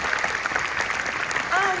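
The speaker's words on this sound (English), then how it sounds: "Yeah, another round of applause for these amazing women." Audience applause for the actresses at a post-screening chat for the film TÁR, steady dense clapping filling the whole stretch, with a voice rising near the end.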